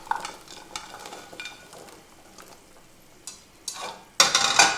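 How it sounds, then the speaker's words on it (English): Carrots are stirred in a pot of homemade chicken vegetable soup, with faint scattered scrapes and clinks, then a louder burst of stirring and sizzle near the end, close with no voices. "I'm gonna stir it to show you guys how it looks like"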